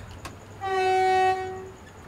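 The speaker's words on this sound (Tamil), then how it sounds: "ஸோ நம்ம ட்ரெயின் எடுப்போம்." A train horn blares once in the Train Sim World 4 game, a loud sustained tonal blast of about a second over a low running rumble, preceded by a short thud.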